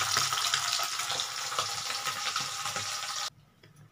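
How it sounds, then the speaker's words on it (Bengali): Tangra fish sizzling in oil in a pan, a continuous hiss with scattered pops and stirring clicks, then cutting off abruptly to near silence. "আস্তে আস্তে এটা ভাজা হোক"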